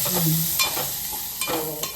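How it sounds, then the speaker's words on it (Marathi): Boiled dal being tempered in hot oil, a steady loud sizzle with stirring scrapes and a few clinks of a spoon against the pan. "करते फोडणी देते"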